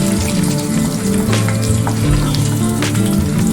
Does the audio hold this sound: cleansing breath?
no